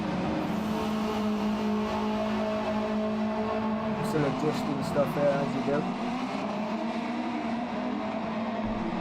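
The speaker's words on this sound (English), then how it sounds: "Can you hear the cars alright?" Racing cars lap a track during a league race, their engine drone steady and moderately distant throughout while someone talks over it.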